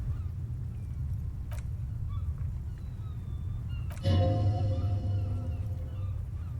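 A bird in the Disco Elysium video game gives a loud honking call that rings out briefly over a low steady ambient rumble, preceded by a couple of faint clicks.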